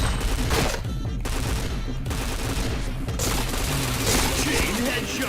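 Rapid, dense gunfire from the online shooter Point Blank: sustained machine-gun bursts and overlapping shots fill the whole stretch at steady loudness, with brief dips between volleys.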